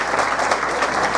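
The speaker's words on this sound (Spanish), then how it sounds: "venga de ahí este fuerte aplauso" A crowd at a youth symphonic band competition applauds the youth symphony from Acapulco, Guerrero, a brief, loud, continuous roar of many clapping hands with no talking.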